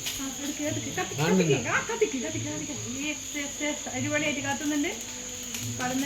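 Wasps at their nest give a steady, high, thin buzz that holds throughout, heard close and continuous beneath people talking.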